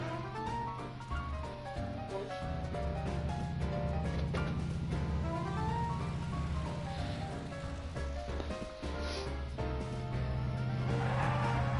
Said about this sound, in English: And yet Marty almost got run over by a car.